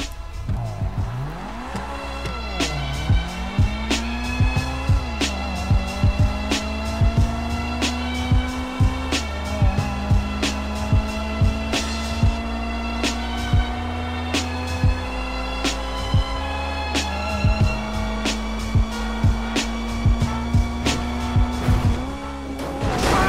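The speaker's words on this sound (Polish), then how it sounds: "Teraz sprawdzimy pojazd na trasie drag, no i zobaczymy jak pojazd panuje się prędkościowo przed i po tuningu." A Monroe sports car in GTA 5 accelerating hard down a drag strip, its engine whining upward through repeated gear shifts, each change dropping the pitch before climbing again, loud and close throughout.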